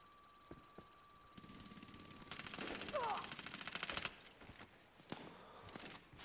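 Heavy machine gun fire in Medal of Honor Warfighter multiplayer at a Somalia stronghold map, bursts of rapid shots thickening into a dense, loud stretch of gunfire with scattered distant cracks, game effects and ambient noise around it.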